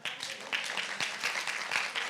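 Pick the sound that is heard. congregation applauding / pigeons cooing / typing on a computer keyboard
congregation applauding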